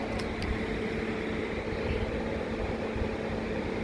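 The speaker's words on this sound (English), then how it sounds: "sorry for the fan noise." Electric fan running steadily in a hot garage during work on an LS3 Corvette, a constant close whooshing hum that fills the space alone.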